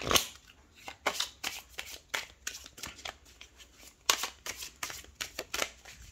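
Tarot cards are shuffled by hand close up, giving a series of crisp riffling and slapping bursts in an irregular rhythm, with no talk.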